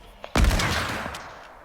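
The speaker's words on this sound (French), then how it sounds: "j'ai tiré au moment où il a sauté, du coup il s'est pris la balle dans le pied" A single loud gunshot in the Fortnite video game, a sharp close crack followed by a long fading reverberant tail, no talk.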